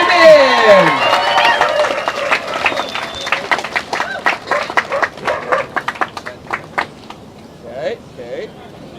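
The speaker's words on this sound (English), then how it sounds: "Let's give a round of applause for your Sup Surf Women." A crowd at the awards of the Rip Curl CanAm Surfing Championship in Canada applauds the SUP surf women, with scattered, patchy clapping that swells and then fades beneath a loud announcer's voice.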